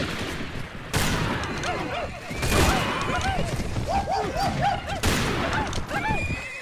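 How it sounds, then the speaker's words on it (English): Gunshots ring out in a Mount & Blade Warband 1860s mod battle, with sharp cracks at irregular intervals among repeated horse whinnies and battle noise throughout. "Still hear gunshots."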